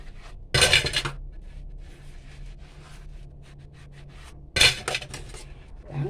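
Dishes, bowls and spoons being washed by hand clatter in two short bursts of clinking, separated by quieter rubbing and scrubbing sounds close by.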